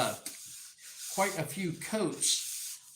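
A paper towel rubs and dabs along a tomahawk handle coated in boiled linseed oil, giving soft, close, intermittent scuffing strokes in short bursts, faint overall.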